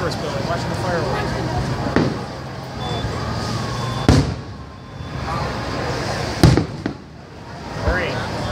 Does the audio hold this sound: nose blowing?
no